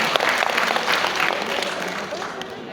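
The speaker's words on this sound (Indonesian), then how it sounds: "tepuk tangan buat kita semuanya" Applause from an audience at a school event, a steady broadband patter of many hands filling the room with voices mixed in underneath.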